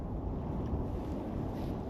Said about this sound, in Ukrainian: і вітер посилюється, і холодніше